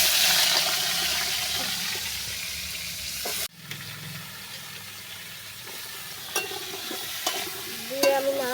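Potatoes, pumpkin and stem greens hit hot oil seasoned with cumin in a wok, loud sizzling that drops sharply, then softer frying with scraping stirs and clinks of a utensil against the pan.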